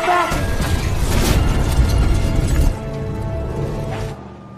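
A car explodes in an action film, a loud booming blast with crashing and shattering debris that rumbles on and then tails off into quieter noise.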